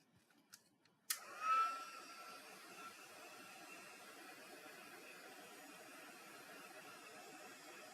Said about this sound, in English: I think I'm going to throw some heat on it so you guys don't have to wait.